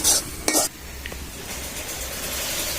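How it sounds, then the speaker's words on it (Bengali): Milk poured into a pot of carrots cooking down for carrot halwa, a brief splash and clatter near the start giving way to a steady low simmering hiss. "আমরা এখন দিয়ে দিব দুধ,"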